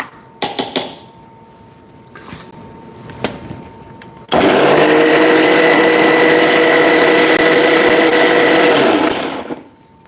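A mixer grinder blends raw mango and onion chutney, switching on abruptly after a few clinks and whirring loudly and steadily for about five seconds before stopping.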